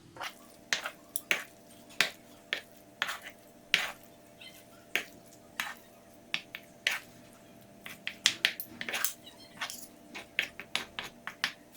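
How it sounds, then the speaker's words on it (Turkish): A spoon stirring black pepper and red pepper flakes into a bowl, giving a string of sharp, irregular clinks and taps against the bowl, close and clear with no talking. "Kaşıkla karıştırıyorum."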